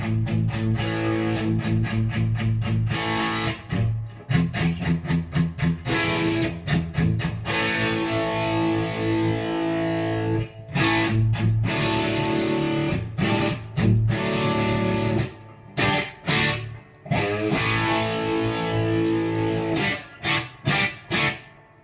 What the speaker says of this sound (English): Palm muting will help you to develop control over your sustain.